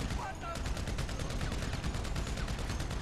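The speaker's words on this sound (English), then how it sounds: "stop shooting me!" Dense, continuous gunfire in the video game GTA V, rapid overlapping shots forming a steady barrage at moderate level with no clear pauses.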